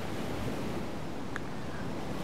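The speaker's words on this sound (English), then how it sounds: "As you can hear the water." Waves roll in on the coast at night in the game DayZ, making a steady, dense surf roar mixed with wind. It fills the whole moment at moderate loudness, with no voices.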